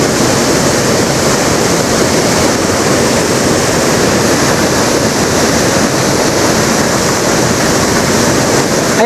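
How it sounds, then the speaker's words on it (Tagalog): Heavy rain pours down beside Bunga Falls near Yambo Lake, a constant loud broadband roar of rain and rushing water that never lets up, with no voices. "Ayan, malakas na talaga yung ulan."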